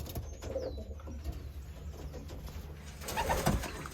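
Small birds, tagged as pigeons or doves, call and coo from a breeding cage packed with chicks. Soft cooing and faint chirps sit over a steady background hum and build to a louder burst near the end.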